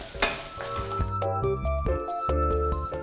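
Shrimp fried rice with curry powder being stir-fried in a pan: sizzling with spatula scrapes and clacks against the pan, close and fairly loud, with faint background tones and no speech.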